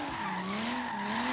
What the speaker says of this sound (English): And then we get to drifting.